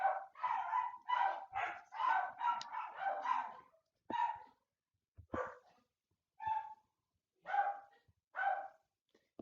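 Several dogs bark inside a house, a burst of quick, close, overlapping barks at first, then slower single barks and yips spaced by short silences.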